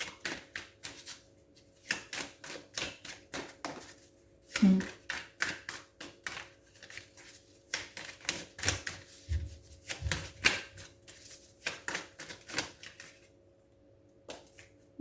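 Tarot cards being handled and drawn from a deck: close, quiet flicks, taps and shuffling snaps in irregular bursts, with no talking.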